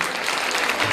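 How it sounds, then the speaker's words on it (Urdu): A church congregation at a Pentecost service bursts into dense, sustained applause, loud and close, filling the whole moment with steady clapping. "یسوع کے لیے تالیاں بجا سکتے ہیں؟"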